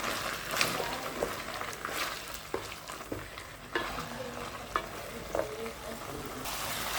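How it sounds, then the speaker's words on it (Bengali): A tomato and onion paste fries with ginger-garlic paste in oil, a steady close sizzle running throughout while a spoon stirs and scrapes against the pan in scattered knocks; no speech. "সব ভালো করে একটু ভেজে নিচ্ছি"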